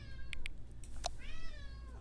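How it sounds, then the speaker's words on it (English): A cat gives a few soft meows, first two short chirping calls and then a longer drawn-out meow, faint against a low background hum, with nobody speaking. "What are you meowing at?"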